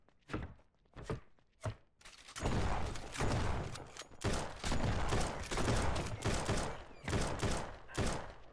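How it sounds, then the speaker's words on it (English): Rapid enemy gunfire in the survival game No One Survived, opening with a few separate sharp shots and then breaking into dense, sustained bursts of loud, close fire. "It's like super rapid fire."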